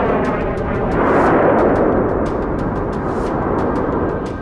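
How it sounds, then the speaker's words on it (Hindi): Missile explosion on the ground, a loud sustained rumbling roar with rolling low-end energy and crackling bursts throughout, heard alone. "और फिर जमीन पर जोरदार धमाका होता है,"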